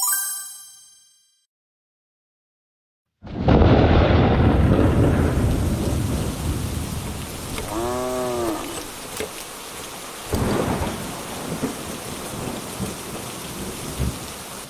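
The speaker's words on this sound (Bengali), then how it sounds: "সকাল থেকে একটানা বৃষ্টি পড়েই চলেছে" Heavy cartoon rain pours steadily on a rainy day, loud and continuous, joined partway by a ringing metallic ding and a few thunder rumbles, with no talking.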